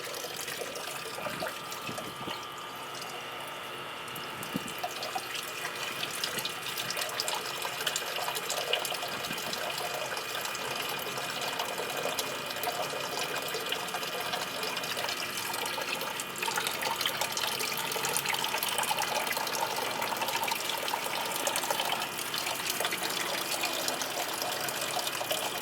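Vinegar is pumped through a car heater core in a long, unbroken stream of trickling, gushing liquid. The hiss stays even and close, swelling slightly toward the end, with no one speaking.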